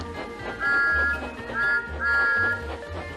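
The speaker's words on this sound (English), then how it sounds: "Everywhere Thomas went, he blew his whistle even louder." Three drawn-out, high steam whistle blasts from cartoon steam locomotive Thomas the Tank Engine, each lasting about half a second, over a chugging rhythmic background of music and engine sounds.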